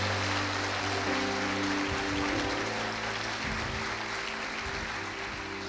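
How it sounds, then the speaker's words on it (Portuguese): Church congregation applauding during a worship service, dense continuous clapping heard loud and steady, with a sustained organ-like tone underneath. "aplauda o Senhor."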